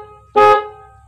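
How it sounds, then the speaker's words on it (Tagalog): A car horn is pressed once during wiring troubleshooting of the horn circuit, giving a single short, loud, bright honk of about a quarter second close by, then low background hum. "Pero pindutin mo nga yung busina."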